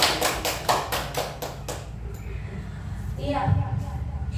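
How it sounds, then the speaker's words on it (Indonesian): Brief burst of applause for a teacher in a school classroom, a quick run of claps at the start that fades out, followed by talking over light room noise. "Beri aplaus dulu untuk Bapaknya."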